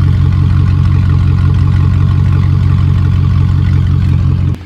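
Truck engine with the muffler removed and the pipe cut open runs loud and steady, a deep throbbing drone close by that holds for several seconds, then cuts off sharply at the end.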